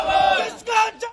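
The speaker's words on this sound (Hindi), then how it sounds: "सैफई में अखिलेश के आवास के बाहर जुटी कार्यकर्ताओं की भीड़," Outside Akhilesh's residence in Saifai, a crowd of party workers shouts slogans in loud, rhythmic bursts, with a long chant followed by two shorter shouted calls, close and energetic.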